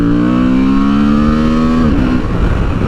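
A loud, close Honda Transalp motorcycle engine revs high with a rising whine, then drops off suddenly near the end.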